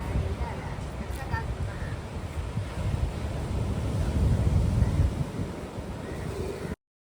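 Waves wash onto a beach under strong wind buffeting the microphone, a continuous rough roar that builds a little before cutting off, with voices talking over it.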